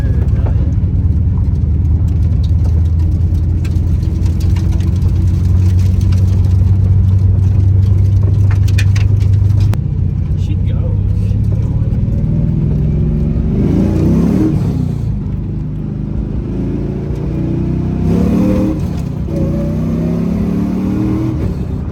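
A loud, throaty LS V8 engine in a swapped Nissan 240SX S13 drift car revs and roars continuously, with rising and falling pulls near the end.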